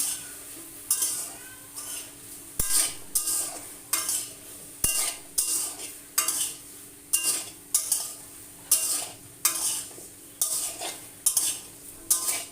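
Vegetables stirred in a pan for an oil-free, spice-free Bengali mixed vegetable ghonto, with a steady rhythm of about a dozen close scraping strokes of a utensil over a faint sizzle.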